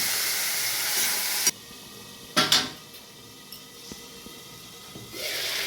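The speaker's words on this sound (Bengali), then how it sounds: "মশলাটাকে কষিয়ে নিয়েছি" Spice masala being sautéed for a pomfret fish curry: a soft steady sizzle with a couple of sharp metal clatters from a spoon against the pot, then a brief rise of hissing near the end.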